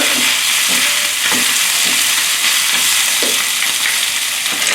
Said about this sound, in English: Now we're gonna add in the vegetables.